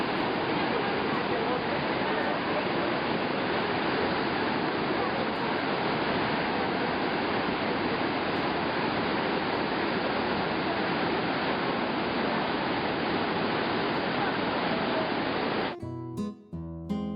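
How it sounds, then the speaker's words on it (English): Iguazu Falls on an overcast day, a massive waterfall roaring as a dense, unbroken wall of rushing water, loud and steady for most of the stretch before cutting off abruptly near the end. "Iguazu has the greatest annual flow of any waterfall in the world."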